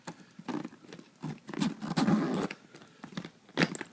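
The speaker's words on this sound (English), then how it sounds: "I'll go ahead and zip it up so you can hear how solid the zipper is" A series of short rasping, scratchy strokes close up, irregular bursts with brief pauses, as a Gucci duffle bag zipper is pulled closed.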